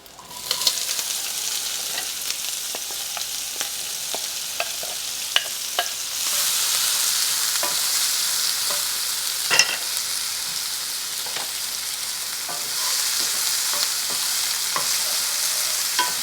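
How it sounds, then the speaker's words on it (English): Onions frying in a pan for a vegetable scramble, a steady close sizzle with occasional stirring clicks and scrapes, the sizzle swelling louder partway through as the pan heats. "I always add the onions first so they can kind of get nice and caramelized"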